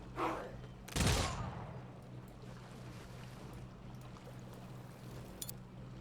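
A single sharp volley of rifle fire crashes out in Humankind after a short, fainter burst. A low, steady hum sits underneath, with one small crack near the end.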